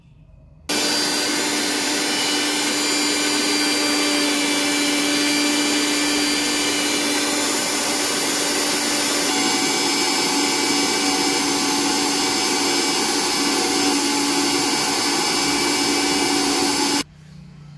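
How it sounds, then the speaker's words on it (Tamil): An electric mixer grinder powdering dried henna leaves, starting abruptly and running at a high, even whine for about sixteen seconds before switching off, loud and close with no talk. "இப்போது மருதாணியை நான் வந்து எடுத்து மிக்சரில் போடுறேன்."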